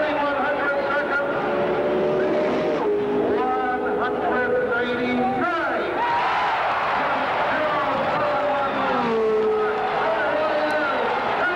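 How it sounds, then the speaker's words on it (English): A 1973 Indianapolis 500 race car engine on a qualifying run at Indianapolis, with a loud sustained engine roar whose pitch climbs and falls through gear changes, heard continuously with an announcer speaking over it. "Rutherford starts out to qualify for his 10th Indianapolis race, and now, listen to this"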